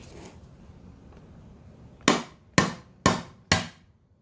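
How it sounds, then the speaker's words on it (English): A nylon teardown hammer tapping on a part of a Honda CBR600F4i motorcycle engine during removal: four sharp, evenly spaced knocks close up, following a brief spoken word over quiet background. "I have this teardown hammer. It's just kind of a nylon thing. I'm going to see if I can use this to tap that off of"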